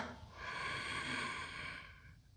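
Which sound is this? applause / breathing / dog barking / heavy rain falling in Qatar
breathing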